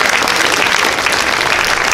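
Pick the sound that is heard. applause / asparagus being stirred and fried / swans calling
applause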